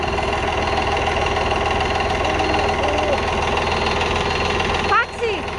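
A tractor engine idles with a steady, loud mechanical rumble, and a voice speaks briefly near the end.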